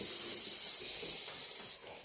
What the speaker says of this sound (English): that's the fizzing sound